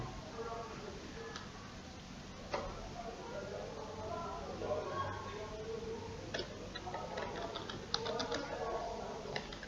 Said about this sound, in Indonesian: Oke, kita ketik dulu.